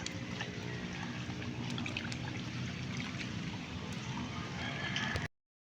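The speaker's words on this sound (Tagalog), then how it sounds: "Ang sarap pakinggan ng agos ng tubig." A river flows steadily nearby, a soft continuous rushing and gurgling wash with no voices, ending abruptly.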